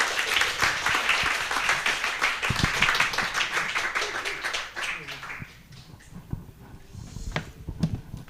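A church congregation applauds to welcome a missionary at a mission dedication service, a dense sustained clapping that fades after about five seconds into scattered claps and room noise.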